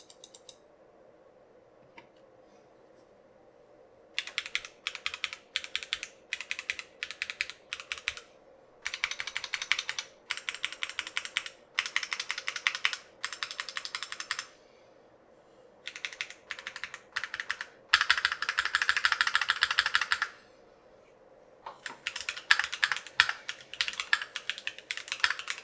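Keystrokes on a Keychron Q1 V2 mechanical keyboard fitted with factory-lubed tactile brown Gateron Pro switches, typed in close, rapid bursts with short pauses and a couple of dense runs; no voices.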